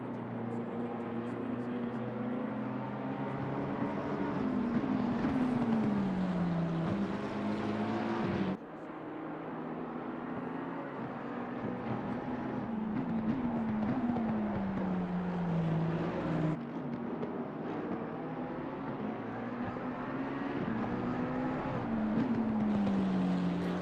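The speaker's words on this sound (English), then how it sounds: "just literally listen to the noise of those engines" Race car engines roar around the Brands Hatch circuit in the Assetto Corsa Competizione racing game, rising and falling through gear changes in repeated cycles, loud and continuous, with abrupt cuts between cars.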